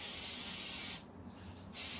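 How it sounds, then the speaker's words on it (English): Food release spray hisses from a can over a kitchen sink in two close, steady bursts with a short break between them and no one speaking. "So I just spray it over the sink"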